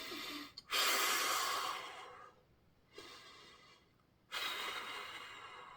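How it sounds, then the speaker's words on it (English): Heavy, deep breaths during a core-strength and flexibility golf workout: a few long inhales and exhales, close and alone, with quiet pauses between them. "Breathing deeply."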